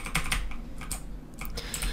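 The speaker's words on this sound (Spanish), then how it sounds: "lo siento si suena mucho el teclado, pero ya sabéis que es nuevo" A new computer keyboard clatters under fast typing, loud close-up clicks and key taps in quick irregular bursts with brief pauses, during a Hello Neighbor gaming session.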